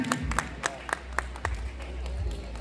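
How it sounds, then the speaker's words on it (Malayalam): At a Mr. Kapa 2025 bodybuilding prize-giving in Trichur, an audience claps for a winner: scattered, fairly sharp handclaps ring out over a low hall hum, with a voice speaking alongside. "അതിന് നല്ലൊരു കൈയടി നൽകാം."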